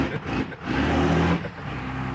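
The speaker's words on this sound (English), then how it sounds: "revving up the motor a little bit" 1991 Chevy K5 Blazer engine revving from inside the truck, two rising blips of throttle with a short dip between, then settling to a steady rumble.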